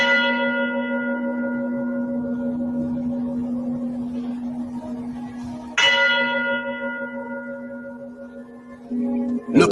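Church bells chime with long, resonant ringing tones; one strike decays slowly before a second loud strike rings out near the middle, followed by a fresh onset at the end, with no other sounds.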